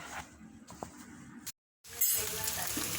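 Sautéed minced meat for an Arabic pareq batata dish fries in a pan, a steady crackling sizzle with small clinks, broken by a brief silent gap before the frying resumes louder.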